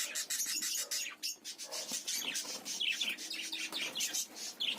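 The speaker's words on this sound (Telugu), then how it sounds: "సో ఆస్ట్రేలియన్ ప్యారెట్స్ అంటారు వీటిని, ఆస్ట్రేలియన్ బడ్జీస్." A group of Australian budgies in a breeding setup chirp and twitter continuously, with bright, rapid overlapping calls and a few scratchy rasps nearby.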